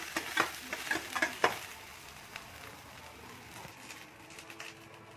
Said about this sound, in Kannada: ಈರುಳ್ಳಿ ಬೆಳ್ಳುಳ್ಳಿ ಮೆಣಸಿನಕಾಯಿ ಎಣ್ಣೆ ಚೆನ್ನಾಗಿ ಫ್ರೈ ಆಗಬೇಕು